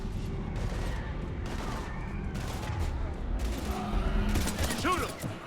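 Gunfire crackles through a Mass Effect battle against husks, with bursts of shots and mechanical clatter layered over a busy, rumbling backdrop while voices speak now and then.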